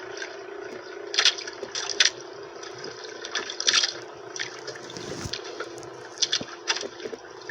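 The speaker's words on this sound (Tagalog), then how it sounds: "Grabe na lakas ng agos, oh." Strong river current flowing, heard as a busy stream of splashes and gurgles with irregular louder surges, fairly close and without talk.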